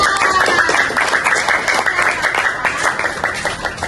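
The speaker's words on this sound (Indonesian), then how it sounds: "tepuk tangan untuk Rafa." Sixth-grade pupils in a classroom clap for a classmate, a close, lively patter of many hands lasting a few seconds at fairly even loudness.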